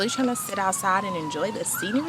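An ambulance siren wails outdoors, its rising and falling tones running under a person speaking close by, with traffic noise in the background.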